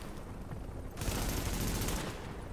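M4 rifle gunfire in Tom Clancy's The Division, a rapid automatic burst erupting after a second of low background rumble, loud and sustained for over a second before easing off.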